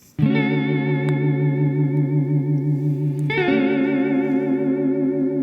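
A sustained electric guitar note wavers under a chorus-like modulation, then a second note enters with a deeper, more pronounced warble.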